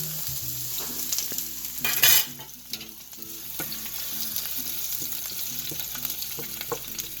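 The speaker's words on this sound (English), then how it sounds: "So I'm gonna add my onions, okay?" Onions fry in olive oil in a pan, a steady close sizzle with a sharp hiss as they hit the hot oil, followed by stirring scrapes and crackling; no talking.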